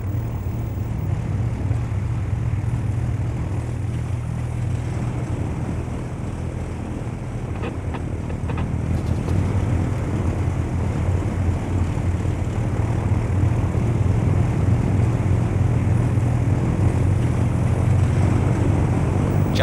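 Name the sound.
small airplane departing in Antarctica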